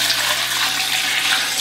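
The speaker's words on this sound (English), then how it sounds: "So we'll go ahead and pour the water in." Water pours steadily into a large pot for Vietnamese crab noodle soup broth, a continuous even splashing rush without pauses or voices.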